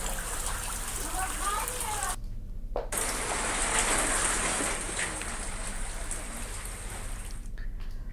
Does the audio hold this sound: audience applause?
no